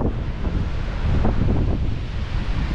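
Hurricane-force wind at a cliff edge in Gelendzhik batters the microphone with loud, close, continuous rumbling gusts that swell and ebb without any voices.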